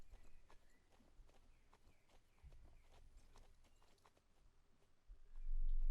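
Hooves beat in an even, rhythmic clip-clop as a horse performs a curling trot in a dressage lesson in the video game Star Stable Online. The footfalls are soft and steady, and a louder swell of sound comes in at the very end.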